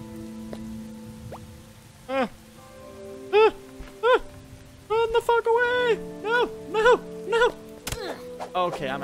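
Rain in the video game Starbound, a soft continuous patter running low beneath someone talking in short, expressive bursts.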